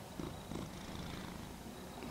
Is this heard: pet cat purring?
yes